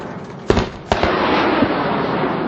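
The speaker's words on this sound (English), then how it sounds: "Missile launched" During a Pakistan Army exercise, Raad al Barq 2016, a military missile launches with two sharp blasts, then a sustained loud rushing roar as it fires away.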